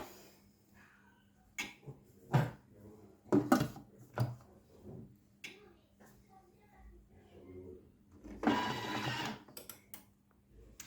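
A food processor on turbo gives a short, loud, roughly one-second burst near the end, grinding clumped icing sugar, after quiet speech and light kitchen clatter.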